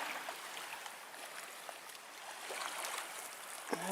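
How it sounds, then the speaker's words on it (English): A river flows into a calm lake with a soft, steady rush and light trickling, faint and continuous, with no voices. "You get the flow from the river coming in from this way"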